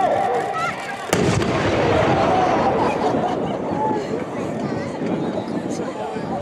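Weapons firing during a Japanese army training display at the Shinodayama garrison anniversary event, with one sharp, very loud blast followed by a long rolling echo and crowd murmur.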